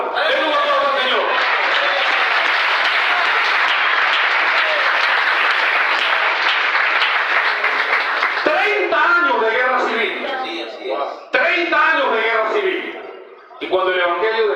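A church congregation at a regional conference bursts into loud, sustained applause that fills the hall for several seconds, then thins into scattered clapping with cheering voices and a lone speaker cutting through near the end.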